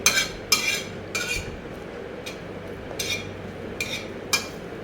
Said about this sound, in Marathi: तर पटापट हलवायचं आहे अशा प्रकारे आणि खोबरं न करपू देता छान भाजून घ्यायचं आहे